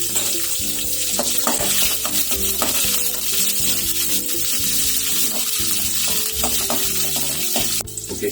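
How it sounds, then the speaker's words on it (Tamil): Onions and dried red chillies sauté loudly in a hot pan for sambar, a steady close sizzle broken by repeated scraping stirs and clattering against the metal. "இது கூடவே ஒரு 4 வரமிளகாய் சேர்த்துக்கலாம். நல்லா வதக்கிக்கலாம்."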